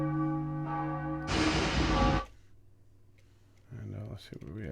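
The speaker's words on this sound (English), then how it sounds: "So the sound of the church bells." A church bell sound effect used for a stage show plays as a resonant tolling strike with a lingering ringing tail, followed by a burst of noise and quieter clattering afterward.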